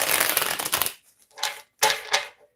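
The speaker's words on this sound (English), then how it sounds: "Let me give this a real good shuffle." Tarot cards shuffled by hand at close range: a long riffling burst, then two shorter crisp flurries after a brief pause.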